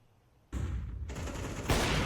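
Rapid automatic gunfire in a Counter-Strike match, close and loud, starting abruptly after a brief quiet moment and continuing as a sustained spray that grows louder near the end.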